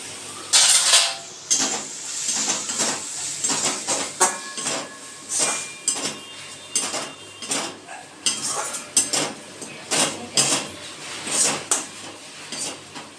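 Metal spoon scraping and clanking against a pot while spiced chicken is stirred without oil, with a lid lifted and set back; repeated close, sharp clatters in an uneven rhythm, no talking.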